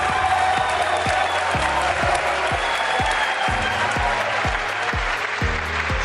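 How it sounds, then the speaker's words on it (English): Warm audience applause welcoming a guest onto a stage show, a full steady wash of clapping over rhythmic low thumping music that pulses underneath throughout. "Please give him a warm round of applause."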